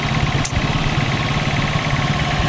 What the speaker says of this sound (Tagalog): normal na yung ingay na yan sa mga push rod type